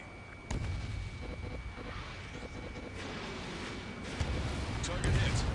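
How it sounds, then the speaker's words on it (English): In Ace Combat 7 on PS4, a missile launches with a sharp burst and later strikes its target with dull booms, all over steady jet engine roar, with a voice talking over it. "Missile away."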